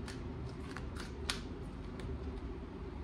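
Tarot cards drawn and handled from a deck, with a few soft, brief card slides and flicks at irregular intervals over a steady low room hum.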